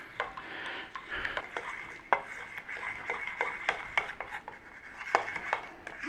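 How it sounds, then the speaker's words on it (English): A spoon stirs cream into melted chocolate in a bowl for a Baileys coffee cake, giving a steady run of soft scraping strokes and light clinks close by, with no talk. "And all we're doing is adding our cream to that chocolate. Nice little stir in."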